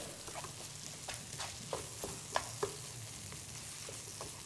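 Roasted drumstick pulp gets stirred into a sizzling drumstick bharta, with a spoon giving soft, irregular scrapes and taps against the pan over a quiet, steady fry.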